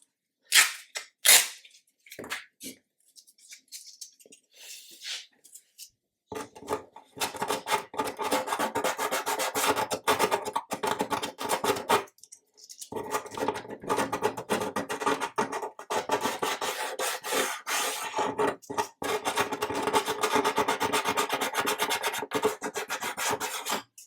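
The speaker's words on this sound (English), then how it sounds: "a little bit of sandpaper in there. So this is 180 grit, so it's nice and coarse basically." Coarse 180-grit sandpaper rubbing a part on a 1/200 Scharnhorst model ship, a few quick scrapes and then long steady rasping strokes, close, faint and alone.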